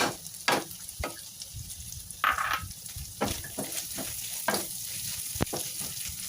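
Chili sizzling as it sautés in a pan with santol, a steady soft fry punctuated by sharp clinks and scrapes of a utensil stirring against the pan.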